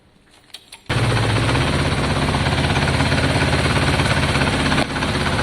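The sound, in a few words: Kawasaki ZL600 motorcycle engine starting up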